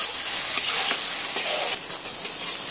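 Ginger-garlic masala frying in oil in a pan while being stirred for aloo dum biryani, a steady close sizzle with soft scraping strokes throughout.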